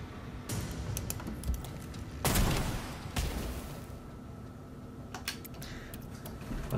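Aimed gunshots crack out in Necromunda: Underhive Wars, a few loud separate blasts with the strongest in the middle, set over steady low battle ambience with faint ticking.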